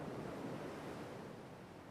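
Ocean waves washing onto a sandy beach, a steady soft wash of surf with a broad, even hiss, faint and continuous with no voices.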